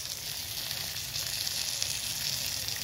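Whole fish paturi cooking over a brick stove set up on a rooftop during a winter-afternoon picnic gives a steady, loud sizzle with a constant frying hiss that runs unbroken and without any voices.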